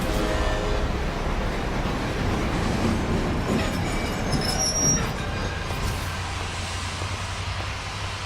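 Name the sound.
train in the video game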